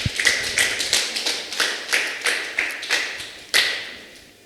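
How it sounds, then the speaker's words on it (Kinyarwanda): A church congregation claps rhythmically during a prophet-led prayer service, about a dozen sharp, evenly spaced claps ringing out in a reverberant hall, loud and close with no talk over them. "komera Imana amashyi"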